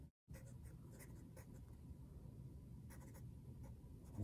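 A pencil writing on paper, a steady close scratching that runs almost continuously after a short pause at the start, soft and unaccompanied by speech.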